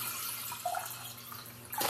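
Water is poured into a pot as the base for homemade elderberry syrup made from dried elderberries, a soft, faint trickle and splash close by, ending in a brief louder gush.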